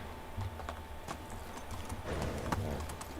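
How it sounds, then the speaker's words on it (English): Horse hooves clip-clop in the medieval video game Medieval Dynasty, a steady soft patter of footfalls under a continuous low ambient bed, moderately faint. "And we now have a horsey."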